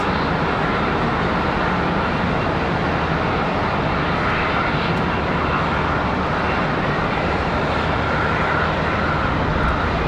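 A plane on landing approach at Charlotte Douglas International Airport: a loud, steady, broadband jet roar that holds throughout with no voices.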